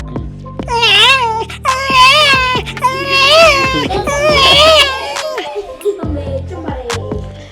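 Someone mimics a crying baby with several loud, wavering wails separated by short breaths, followed by quieter sobbing sounds at the end.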